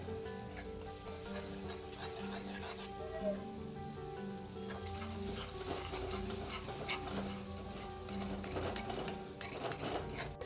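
Green chillies roast in a pan, giving a quiet, steady sizzle with intermittent scraping and stirring knocks, faint and close, while a low musical hum lingers in the background.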